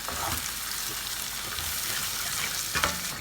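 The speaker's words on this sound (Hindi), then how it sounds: "अब मैंने मसाले को 3 से 4 मिनट के लिए भून लिया" Tomato and green chilli masala paste frying in oil in a pan, a steady close sizzle with soft stirring scrapes and a small clink near the end, no voices.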